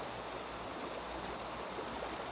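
Steady, unbroken wash of ocean waves in the Minecraft video game, an even hiss of water at moderate level with no speech.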